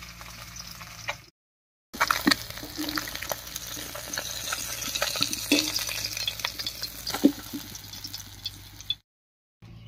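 Fish frying in oil in a pan: a continuous crackling sizzle with the clinks and scrapes of a utensil moving the pieces, close by, broken by brief silent gaps at the start and end.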